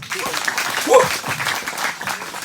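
Congregation clapping in a church service, a dense, steady patter of many hands filling the room, with voices mixed in underneath.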